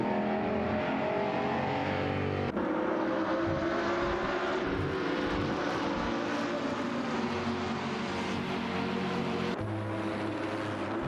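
Racing cars in a video game, including a Mercedes-AMG GT3 and a BMW M6 GT3, drone continuously with engine tones that shift in pitch as they accelerate and change gear, loud and steady with no talk.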